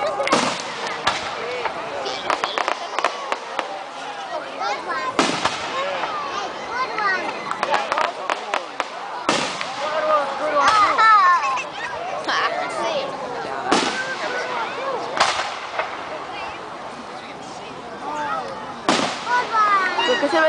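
Firecrackers bursting outdoors in a rapid, irregular series of sharp cracks and pops, some loud and near, others fainter, with people talking and shouting throughout.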